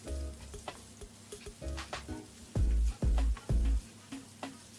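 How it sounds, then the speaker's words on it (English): Diced onions and minced garlic sizzle in oil in a breakfast skillet, the frying broken by bursts of louder stirring and scraping, with three heavy thumps toward the end, and no voices. "add the diced onions and the minced garlic and mix them around with the oil"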